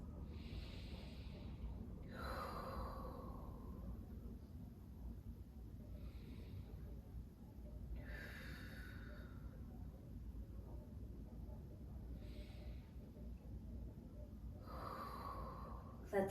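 Slow, deep breaths during a gentle yoga spinal twist come in soft, airy inhales and exhales spaced a few seconds apart, quiet and close over a low background hum.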